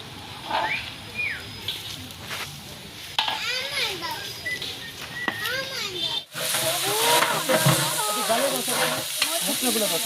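Food frying and being stirred in a village kitchen, a steady sizzle running throughout, joined by bird chirps and children's voices in the background and a brief drop in sound near the middle.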